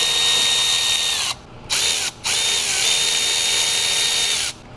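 A power tool runs out the T27 thermostat mounting bolts on a BMW X1 2.0L engine, giving a loud, steady high whine that stops briefly twice and then runs on before cutting off.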